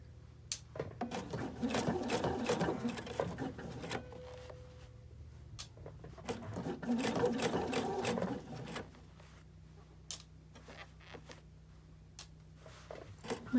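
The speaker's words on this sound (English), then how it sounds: "I just kind of hold these flat as I sew" A sewing machine stitches a hand towel for an oven door handle in two bursts of steady rapid clatter, close and fairly quiet, with short pauses and small handling knocks between them.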